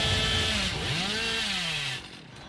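The Hillbilly's chainsaw in the Dead by Daylight game revs with a sustained, buzzing, rising-and-falling whine for about two seconds, then drops back to a quieter hum.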